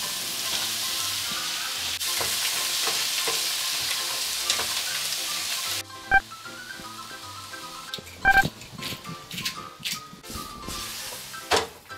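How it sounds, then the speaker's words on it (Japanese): Shrimp added to a hot frying pan for a giant doria, sizzling steadily at moderate level, then quieter frying broken by sharp clicks and clatters of stirring utensils against the pan. "エビも追加で入れていきます"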